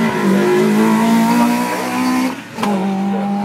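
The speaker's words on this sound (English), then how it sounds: "full speed gear changes" A rally car at the Prom Rally, New Brighton, roars at full throttle in a loud, sustained engine note, with a brief dip for a quick gear change before it pulls hard again.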